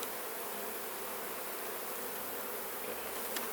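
Honey bees swarm densely during a honey harvest, a continuous close hum of many wings filling the air at a steady level, with no voices.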